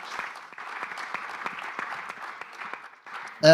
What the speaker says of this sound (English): A round of applause for this great entrepreneur in the Algarve.